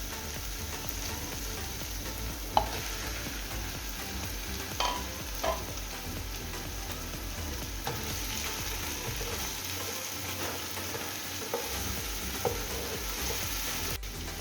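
Onions frying in oil in a pan for a pangas fish curry with bottle gourd greens, a steady sizzle broken by several clacks and scrapes of a spatula stirring, with no talking.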